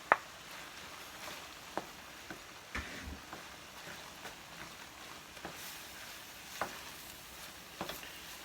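Chopped large shrimp going into hot frying oil for stuffed seafood bell peppers, a steady soft sizzle punctuated by scattered light clicks and taps of stirring, close and moderate in level.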